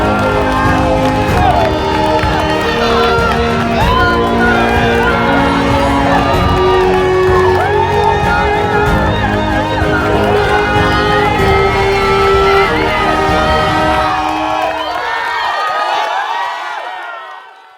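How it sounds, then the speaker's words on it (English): Spectators crowd around the finish of the Barkley Marathons, an ultramarathon. Loud, continuous cheering, whooping and clapping from both sides mixes with many shouting voices and holds steady before cutting off abruptly at the end. "the noise of the kind of clapping and cheering on both sides"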